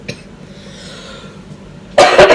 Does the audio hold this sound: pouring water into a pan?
no